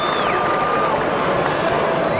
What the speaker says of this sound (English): Well, a buzz goes around the crowd.